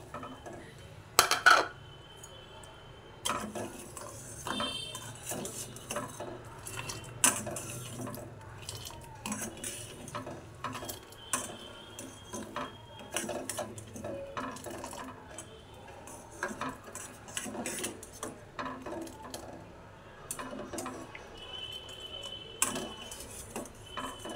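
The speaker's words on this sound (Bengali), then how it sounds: "এটা মিশিয়ে দিচ্ছি পেস্তা আর চিনিটা।" Ground pistachio and sugar stirred into milk, a spoon clinking and scraping against a metal pot in repeated light taps with faint liquid sloshing, close and fairly quiet, no voices.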